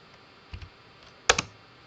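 Two clicks on a computer keyboard while working in AutoCAD: a soft keypress followed by a sharper, louder tap of the C key, close and dry in a quiet room.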